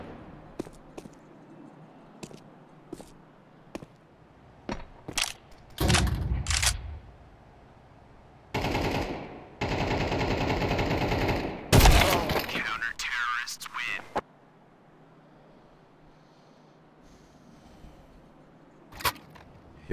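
Sharp shotgun blasts from a Counter-Strike match ring out as a few isolated, loud cracks, spaced apart, with quieter in-game clicks and a voice in between.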